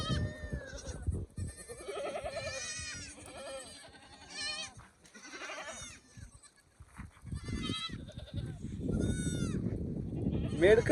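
Goats and sheep bleat repeatedly in open scrubland, several wavering calls overlapping near and far, with people talking in the background.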